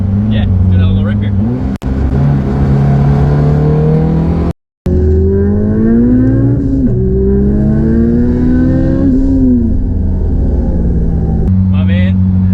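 An 800-horsepower Lancer Evo 2 with a 4G63 engine and all-wheel drive accelerates hard, loud close engine revs climbing through several gear changes with a brief cut between pulls, and voices talk over parts of it.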